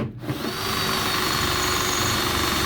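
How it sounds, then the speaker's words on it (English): A power drill whines steadily as it bores out a fixing on a 1980 Land Rover Series 3 109, with a constant high-pitched motor tone sustained close and loud after a brief start-up. "let's drill that one out quickly while I'm here"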